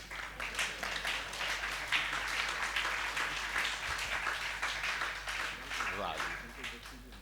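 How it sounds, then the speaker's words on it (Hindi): Dense, continuous clapping from an audience at a Hindi comic poetry stage show, loud and sustained throughout with speech-like sounds mixed in. "7-8 लोगों ने ताली बजाई है"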